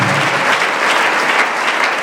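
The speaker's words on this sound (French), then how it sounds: "Acclamons le Seigneur." A church congregation bursts into steady, dense applause of praise, a loud continuous wash of many hands clapping close around the listener.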